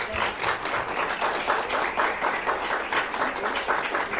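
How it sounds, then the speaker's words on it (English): A live coalition gathering breaks into applause for the crew and organizers, a loud, rhythmic round of clapping from many people close by, steady throughout with no speech over it. "So give everybody a round of applause."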